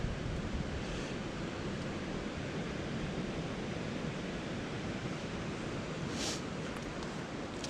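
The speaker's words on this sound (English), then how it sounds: "this cool little glen down here with water running through" Water running through a rhododendron-filled forest glen in Weiser State Forest: a steady, broadband rush of flowing water heard from a short distance, continuous and even, with faint wind-like hiss.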